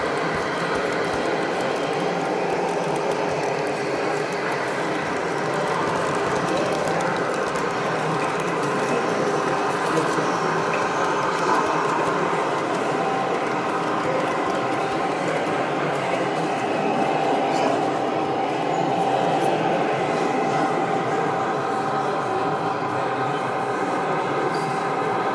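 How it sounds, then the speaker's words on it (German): Gauge 1 model train running through a station at a large model railway meet in Munich, a steady mechanical clatter and whir of wheels and gears lasting throughout amid a busy hall's background noise. "Und jetzt gibt es dann den Zug mal durch den Bahnhof durch"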